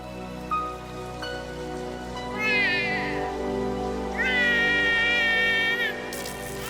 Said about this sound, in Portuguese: A chuva começa a cair enquanto Litten chora.